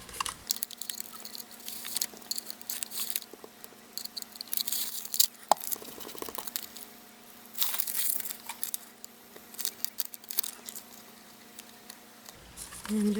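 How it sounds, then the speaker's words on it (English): Cut paper cloud shapes are fed through a Xyron Creative sticker maker, giving soft crinkly rustling and crunching in uneven bursts over a faint steady hum, close up and without speech. "I'm going to run those through my Xyron Creative sticker maker."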